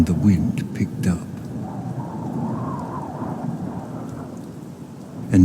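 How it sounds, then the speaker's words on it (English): Electrical storm over the Hudson Valley, with loud thunder cracks at the start and rolling rumbles over steady rain and wind, fading before a fresh crack at the end. "an electrical storm rolled through the Hudson Valley"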